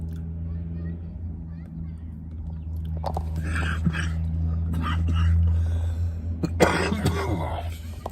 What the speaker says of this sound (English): So I still got a little bit of a cough every once in a while